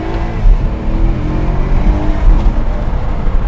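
A Maserati's engine revs loudly and close up, a continuous throaty rumble that rises and falls over a few seconds with no talk over it.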